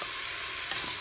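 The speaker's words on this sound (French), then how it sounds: "Vous faites revenir le tout une fois que les lardons sont un peu cuits." Lardons, onions and potatoes fry in a Cookeo multicooker with a steady close sizzle that stays level throughout, with no voices over it.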